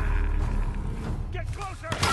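Gunfire in the Tomb Raider video game: a few booming shots crack out amid game sounds, with a sharp burst near the end, fairly loud and close.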